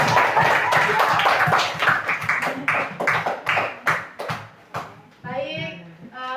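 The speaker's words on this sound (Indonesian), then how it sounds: "tepuk tangan untuk diri semua" Schoolchildren in a classroom clapping their hands at the end of a lesson, bursts of claps mixed with overlapping kids' voices and chatter, fading toward the end as a voice rises.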